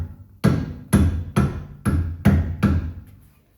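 Six sharp metallic hammer taps strike a Porsche 944 tie rod end to push its thread through the steering knuckle, evenly spaced, close and loud, each with a short ringing decay and no talking.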